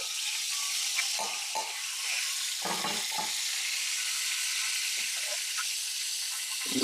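Tamarind pulp hits hot oil in a pickle pan and sizzles, a steady close hiss with a few brief stirring clatters over it, running unbroken to the end.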